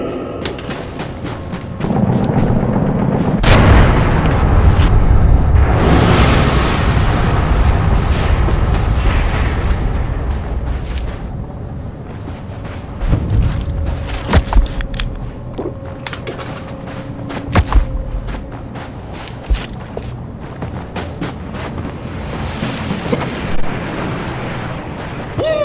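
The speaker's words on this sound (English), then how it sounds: "Left mortars are locked and loaded." Mortar strikes in the zombie game Dead Island 2 pound out as a long run of heavy booms and rumbling blasts, loud and dense at first, then thinning into scattered sharp bursts and cracks of gunfire.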